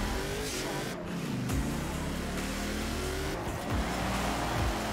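A race car's engine revs and accelerates hard at the start of a race in Forza Horizon 4, droning loud and steady with rising gear sweeps, while someone talks over it.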